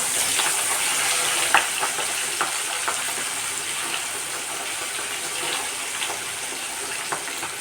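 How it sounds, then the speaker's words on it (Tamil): Rock fish are dropped into hot oil in a pan and fry with a steady, close, hissing sizzle broken by small pops and crackles. No voices are heard. "சட்டி சூடு வர ஆரம்பிச்சு எண்ணெய் சூடு ஏறிட்டு இப்போ போட்டுக்கலாம் ஒவ்வொரு மீனாக எடுத்து இதை போடுறேன்"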